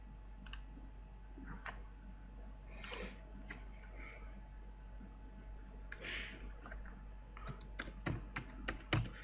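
Quiet computer keyboard typing while writing code, irregular bursts of soft key clicks with pauses, ending in a quicker cluster of taps, faint and close over a low steady hum.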